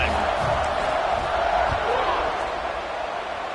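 A football stadium crowd at an MSU versus UConn game roars in a steady, broad wash of cheering that stays loud throughout, with a faint voice briefly audible near the start.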